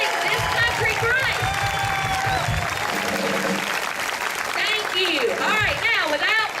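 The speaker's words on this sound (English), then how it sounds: "give a round of applause for everyone that helps out to make this country great" Audience applause at an entertainment show, clapping and some cheering running under loud music with singing and a rhythmic beat.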